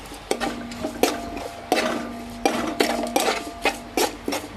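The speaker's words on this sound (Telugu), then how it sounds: "అలాగే ఈ ఉల్లిపాయ పేస్ట్ త్వరగా వేగడానికి సరిపడే కళ్ళుప్పును కూడా వేసుకుని ఫ్రై చేసుకోవాలి." Onion paste frying with rock salt in a pan, with repeated gritty scraping strokes of a utensil against the pan in an uneven rhythm over a low sizzle, close and fairly loud.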